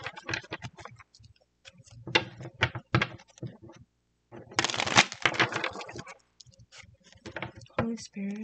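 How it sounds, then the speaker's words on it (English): Cards being shuffled close by in several quick riffling bursts separated by short pauses, with a soft voice faintly under parts of it. "So let me like shuffle it a little bit"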